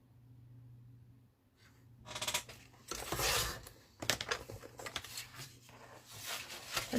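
Scissors snip through paper for a small handmade minibook in Stamperia's Winter Tales papercraft set, giving a run of close, crisp cutting and crinkling bursts that start after a quiet moment and continue in uneven strokes.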